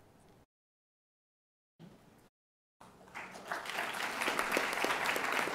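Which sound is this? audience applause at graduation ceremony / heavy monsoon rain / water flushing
audience applause at graduation ceremony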